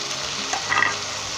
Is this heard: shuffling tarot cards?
no